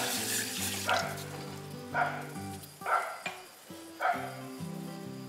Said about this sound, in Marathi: हळू पाणी घालायचं आपल्याला दोन कप मी पाणी घालते इथे